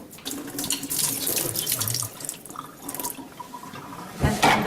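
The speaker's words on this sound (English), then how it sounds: "I just poured a little bit of cold water on top of this" Cold water runs from a kitchen tap, a continuous close splashing rush that shifts in strength as the stream hits the sink.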